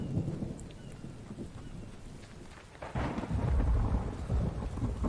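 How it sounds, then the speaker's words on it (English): Thunder rumbles and heavy rain pours down in The Infected video game, a steady downpour with a deep rolling boom swelling in the second half, no voices. "it's pouring rain"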